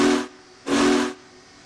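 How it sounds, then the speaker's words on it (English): Two long blasts from the whistle of a Union Pacific Big Boy steam locomotive in Train Simulator, each about half a second, loud and steady with a hissing edge, separated by a short pause of residual steam hiss. "Two toots on the whistle."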